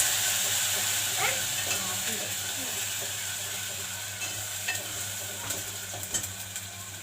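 Onion and garlic paste frying in hot oil with whole garam masala and cumin for dhaba-style chole aloo, a steady broadband sizzle with occasional stirring scrapes, close and continuous throughout.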